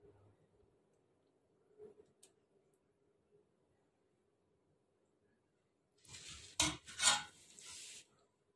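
Spoon stirring buttermilk with ambil, a ragi porridge, in a bowl: a near burst of scraping clinks and swishes after a long, nearly silent stretch with a faint clink or two.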